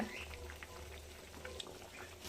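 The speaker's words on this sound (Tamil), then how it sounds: "குழம்பு நல்லா கொதிச்சுட்டு" A Tamil brinjal and drumstick tamarind curry simmers at a steady boil, giving a soft continuous bubbling with small pops, fairly quiet and close, under faint background voice.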